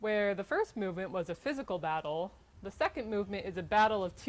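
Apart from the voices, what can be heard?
No distinct noise like a dog, phone or traffic.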